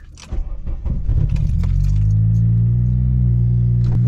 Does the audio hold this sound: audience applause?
no